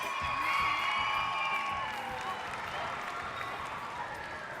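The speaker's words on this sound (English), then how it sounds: "Fantastic, give Bronson a big round of applause." Audience applause and cheering during an interval at a cultural festival's Friday night show: a loud wash of clapping with whoops and crowd shouts, fading slightly toward the end.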